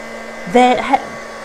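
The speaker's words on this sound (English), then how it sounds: "let your heat gun heat up beforehand, and also a directional heat gun like this" A directional heat gun, not the hairdryer type, whirs throughout, a low droning hum with a brief louder, shifting burst partway through.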